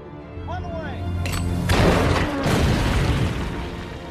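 Tank shell from an M18 Hellcat striking a German Panzer in a World War II film, a loud booming impact that swells into a rumbling blast over a sustained battle din, with speech-like voices partly audible.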